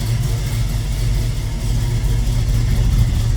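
Classic car engine running steadily with a low, rumbling idle and a slight rise in revs, loud and close, without voices.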